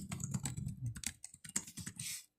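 Quick, close bursts of keystrokes on a computer keyboard while C++ code is entered, clattering in an uneven rapid rhythm before stopping abruptly.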